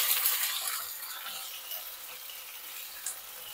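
Ginger garlic paste fries in a pan for bagara rice, a soft continuous hiss and sizzle heard steadily and fairly faint, with no talking.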